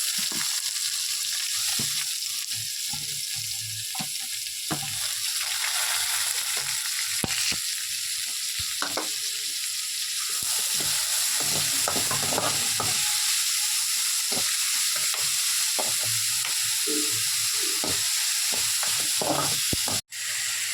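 Sliced large onions hit hot oil already crackling with fennel seeds and curry leaves, sizzling steadily and broadly throughout, with intermittent scrapes and clatters of stirring, close and loud, no voices.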